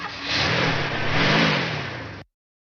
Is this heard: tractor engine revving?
yes